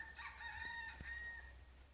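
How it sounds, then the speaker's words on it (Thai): A rooster crows once, faint and distant, somewhere in the rural countryside near rice fields, its drawn-out call sitting over a steady low background hum with no one talking. "เสียงไก่"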